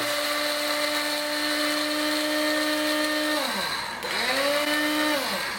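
A blender grinds eggshells into powder for homemade organic fertilizer with a loud, steady high-pitched whine. Near the end the motor dips and then recovers as the load shifts.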